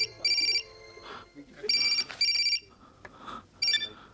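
An old-style telephone rings in a Hindi film scene from Dillagi: bright electronic trills come in short repeated bursts with gaps between them, and voices and room sound fill the pauses.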